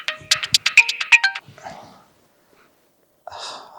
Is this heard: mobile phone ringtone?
yes